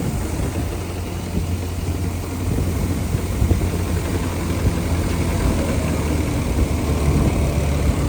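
A tractor ploughs a cotton field with its engine running, heard as a loud, steady low rumble and a rough chugging texture, continuous and close for several seconds, with no voices.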